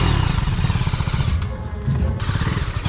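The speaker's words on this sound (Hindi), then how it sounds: "आपको इसका एग्जॉस्ट नोट सुनाने वाला हूं।" BMW G310RR single-cylinder motorcycle exhaust, a loud, close, rapid throbbing idle with a pulsing low rumble that briefly softens and returns.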